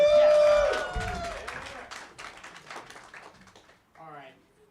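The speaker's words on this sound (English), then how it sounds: "Big round of applause" A crowd claps at a maker festival talk, loud, dense applause that fades into scattered claps, then a brief voice near the end.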